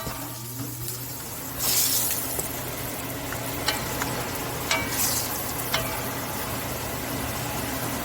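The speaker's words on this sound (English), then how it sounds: "It's burning the curry. And that ginger in it too." Curry paste with ginger frying in a pot for curry goat, a dense steady sizzle with a louder hiss burst and occasional scraping stir clicks, close and without speech.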